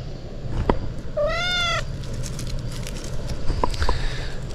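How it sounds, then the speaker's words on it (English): A farm cat lets out one clear, drawn-out meow up close, followed by softer clicks and small chirping sounds against a steady outdoor background. "This is Biscuit, one of our guardian kitties."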